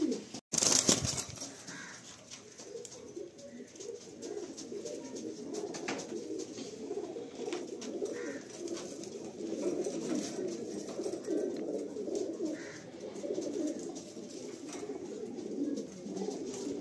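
A pair of Kalanka pigeons coos softly and repeatedly in a loft, with faint wing flutters and low murmuring voices in the background.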